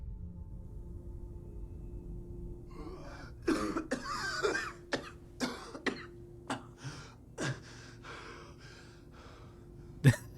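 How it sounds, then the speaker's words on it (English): A video game character gasping sharply after being frozen in a cryogenic array, then a run of harsh coughs and throat-clearing, close and loud over a faint steady hum. "Action Man, gasping, coughing"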